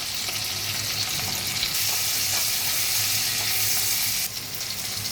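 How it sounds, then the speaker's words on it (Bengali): Spice tempering and chopped tomato hit hot oil, giving a loud, continuous close sizzle with a brighter surge near the start and again near the end, no voices over it. "আমার তেলটা ছিল, এটা বাকিটা রেখে গরম তেলের মধ্যে আমি এই ফোড়নটা দিলাম। এবার দিচ্ছি টমেটো কুচি।"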